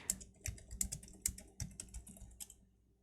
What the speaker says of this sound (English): I'm typing to Isu in the Discord chat